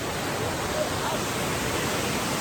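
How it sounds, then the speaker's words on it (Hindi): A waterfall at Baruasagar where people are bathing, producing a steady, loud broadband rush of falling water that fills the whole clip without a break. "तरफ पानी बह रहा है, झर झर झर झर झर झर झर, और लोग नहा रहे हैं।"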